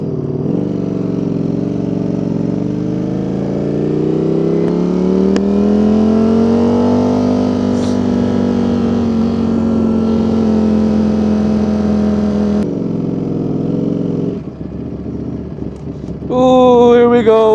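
A Ducati Streetfighter V4S motorcycle rides through traffic toward a U-turn, its engine droning steadily and rising in pitch through a long pull before easing off, loud and close.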